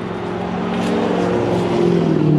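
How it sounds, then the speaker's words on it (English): Steady roar of highway traffic beside a roadside dumpster area right next to the highway, a continuous rushing drone of passing cars that swells slightly as vehicles go by, with no talking. "It is right next to the highway, so it's gonna be a little bit loud"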